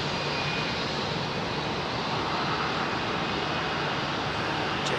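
An airliner takes off at London Heathrow, giving a faint, even engine roar that holds steady throughout with no voices.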